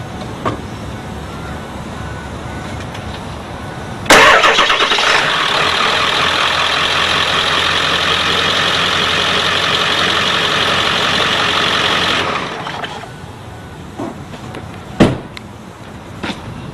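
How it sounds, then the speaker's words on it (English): A Ford Powerstroke 7.3 diesel truck engine cranks and fires with a loud start, settles into a steady clattering idle for about eight seconds, then shuts off, followed by a sharp bang. "So I'm going to start the engine."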